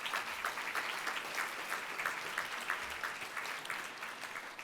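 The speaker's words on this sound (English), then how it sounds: "you should give yourselves a big round of applause" Steady applause from a crowd at a dinner event, dense clapping that holds at an even level throughout without pause.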